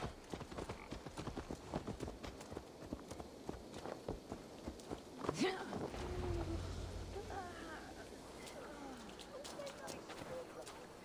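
Horse hooves clip-clop at a steady pace in Assassin's Creed Valhalla, with wind noise in the background and voices talking over the hoofbeats.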